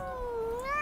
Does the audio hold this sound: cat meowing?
yes